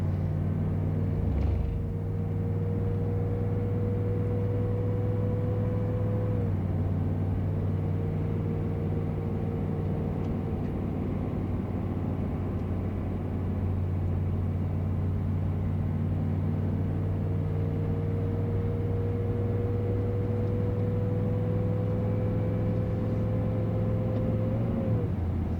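A 6.5L turbo diesel Chevy Blazer cruises in overdrive at about 70 mph, giving a steady low engine drone and road rumble from inside the cab, with a faint whine that holds level throughout.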